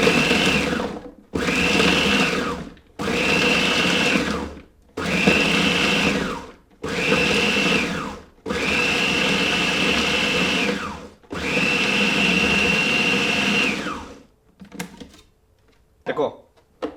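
A Multipraktik food processor chops in a series of short pulses, loud bursts of whirring motor separated by brief silences, with the last two pulses held longer before a few clatters.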